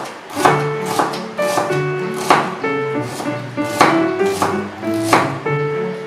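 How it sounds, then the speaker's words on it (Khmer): Red shallots are sliced thinly with a knife on a board, giving about a dozen crisp, evenly spaced chopping taps, close and clear. "ខ្ទឹមក្រហមយើងត្រូវហាន់ស្ដើងអញ្ចឹង"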